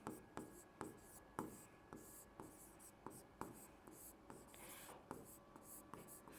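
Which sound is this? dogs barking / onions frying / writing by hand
writing by hand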